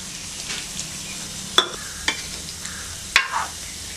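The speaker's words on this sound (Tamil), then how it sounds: "இந்த புளியை வந்து இந்த டைம் நம்ம ஊற்றிக்கலாம்." Tamarind water is poured into a simmering eggplant gravy in a pan, giving a low bubbling sizzle. Several sharp clinks and scrapes of a utensil against the pan come through at close range, with no speech.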